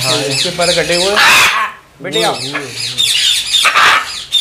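A blue and gold macaw gives harsh, loud squawking calls in repeated bursts at close range. Someone speaks over and between the calls.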